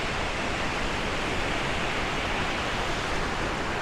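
A small forest waterfall in British Columbia, Canada, pours with a steady, dense rushing roar that stays even and unbroken throughout, close and fairly loud with no voices.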